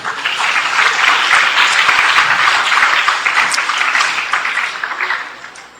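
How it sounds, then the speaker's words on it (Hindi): An audience at a certificate distribution ceremony in Aurangabad, India claps loudly and steadily for several seconds before the applause gradually thins out. "निखत अशरफ, फरीहा सहर, फिर जुबैर अहमद नदवी, इनके लिए तालियां बजाइए"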